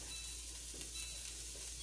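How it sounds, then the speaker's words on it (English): Steady, close sizzling of diced beef smoked sausage frying in a hot pan, a constant hiss with faint stirring. "I've got my beef smoked sausage diced up and frying up in the pan."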